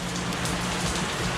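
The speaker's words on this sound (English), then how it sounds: "it started rained pretty bad out here." Steady rain patters on a hard surface, a dense, even hiss of drops with no pauses.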